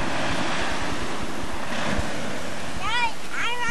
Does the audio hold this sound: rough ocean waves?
yes